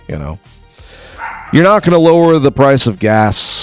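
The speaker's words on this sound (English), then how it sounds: "I'm sorry if you can hear the dogs in the background." Someone talks over dogs barking and yipping nearby, the barks loud and intermittent around his speech.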